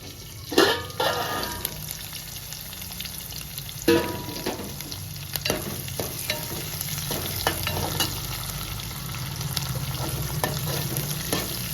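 Sliced onion, dry red chillies and curry leaves frying in a pan for a pappu charu and brinjal fry meal, with a steady sizzle, a few sharp scraping stirs and faint clatter throughout, no talking.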